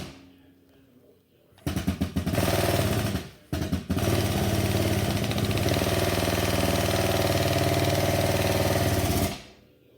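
A motor-driven exhaust pipe expander starts after a quiet moment and runs loud and close with a steady mechanical drone, briefly cutting out before resuming and droning on until it abruptly stops near the end.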